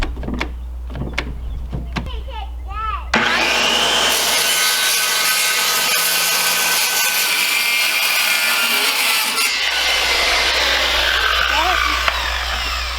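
A saw cuts through a wooden board clamped with a C-clamp for a chicken brooder build, loud continuous rasping strokes running for about ten seconds after a few quieter knocks and brief talk.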